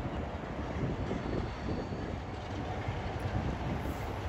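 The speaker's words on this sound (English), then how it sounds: "off goes that one bound for London Euston." A train pulls out of Crewe on the West Coast Main Line bound for London Euston, a steady broadband rumble of wheels and motors with some wind buffeting on the microphone, fairly close and constant throughout.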